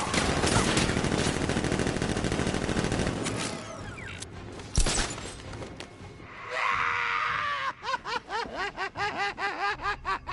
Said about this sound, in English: Guard! Open fire! Shoot everything!